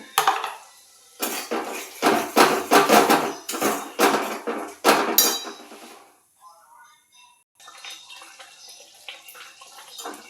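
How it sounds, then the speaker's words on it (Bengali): Spices for a paneer curry are stirred and sautéed in a pan, with a burst of loud metal scraping and clanking for several seconds, followed by a quieter stretch of faint sizzling. "মশলাগুলো সব কষানো চলছে, অনেকটাই কষে এসছে।"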